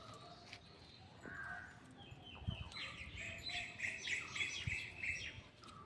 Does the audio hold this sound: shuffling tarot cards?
no